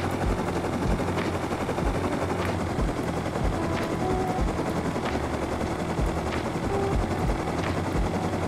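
A minicopter in the Rust survival video game flies with a constant, loud rotor drone and a steady chopping pulse, heard alone and close.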